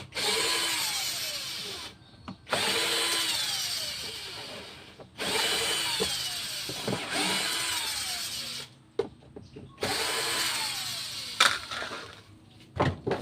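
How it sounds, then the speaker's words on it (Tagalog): A power drill or driver backs screws out of an electric sprayer's housing in four long whirring bursts with short pauses between them. Small clicks and handling knocks fill the gaps, and the sound is close and steady. "Okay, alisin natin yung mga tornilyo."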